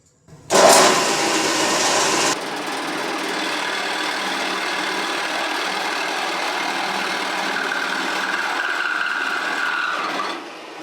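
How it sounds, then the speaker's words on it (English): A drill bores steadily down into a wooden hinge blank, a loud continuous grinding whir that starts abruptly, runs evenly for about ten seconds and then stops. "Now I'm going to drill down to my 3/4 inch line here."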